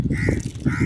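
A crow caws twice against a noisy outdoor background, sounding close and fairly loud, with no talking.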